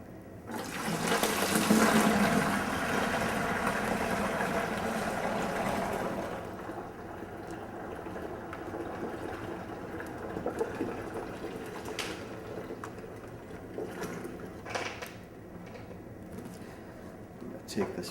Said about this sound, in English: we can take this cap from the juice, open it up, and pour it through the box.